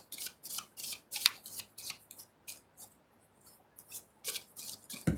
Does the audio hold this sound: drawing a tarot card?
yes